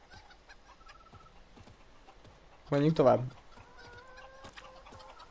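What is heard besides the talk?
chickens clucking in The Witcher 3 video game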